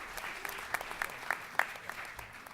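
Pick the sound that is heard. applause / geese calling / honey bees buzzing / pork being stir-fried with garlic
applause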